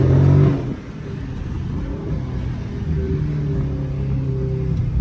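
A Dodge Charger SRT 392 in sport mode gives a loud burst at the start, then a steady, strong engine rumble that builds gradually as the car accelerates, heard close from inside the cabin with no talk.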